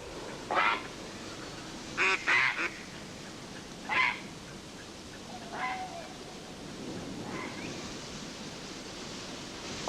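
Geese or ducks on a river at dusk give a handful of scattered honks and quacks, some paired, fairly distant over a soft, steady background hiss.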